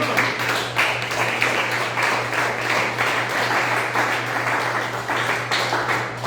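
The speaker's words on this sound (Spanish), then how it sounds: "denle un aplauso a mi Señor" A church congregation applauding during a sermon, a steady wash of many hands clapping at moderate loudness with a low constant hum beneath, sustained throughout with no speech.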